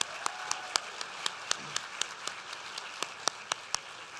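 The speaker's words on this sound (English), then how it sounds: "let's give a round of applause to our amazing performers today, Mariachi Capitan from Chapin High School" Faint applause for the Chapin High School group Mariachi Capitan, mostly a soft crowd patter with a handful of distinct, regularly spaced sharp claps standing out clearly.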